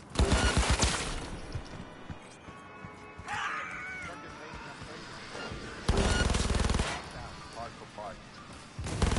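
Gunfire in Cyberpunk gameplay, bursts of rapid shots opening and recurring later, loud and close, with quieter game sounds in between.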